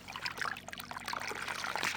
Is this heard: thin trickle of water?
yes